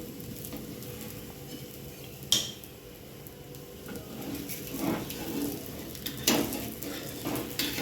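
Besan pudla frying in oil on a pan gives a soft, steady sizzle with occasional sharper crackles and a couple of brief clinks, with no voices.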